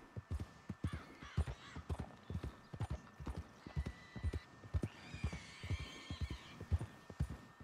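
Rapid clip-clop of a horse's hooves galloping in the video game Red Dead Redemption 2, steady and prominent throughout, with a brief whinny and faint background game ambience.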